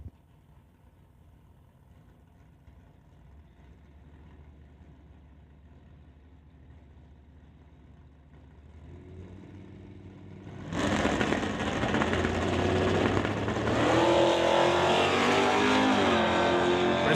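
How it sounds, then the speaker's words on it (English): Drag race cars, a Nova Wagon and a Dodge Dart, idle with a low rumble, then launch together into a sudden, loud, roaring engine blast that carries on to the end. "Cassie Tippie in the Nova Wagon will race Chris Stone in the Dodge Dart"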